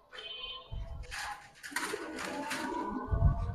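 Pigeons coo in a loft, with a soft bird call early on and mostly a busy mix of cooing and rustling.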